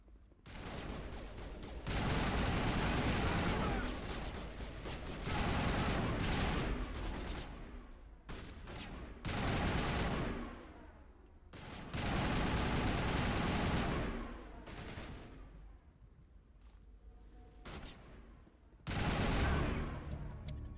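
Sustained bursts of automatic gunfire in a Mass Effect firefight, loud and close, coming in long dense volleys broken by short lulls, with no voices over the shooting.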